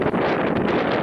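Wind blows across open water during float fishing for crucian carp in a strong current, a short rushing buffet of air close against the microphone.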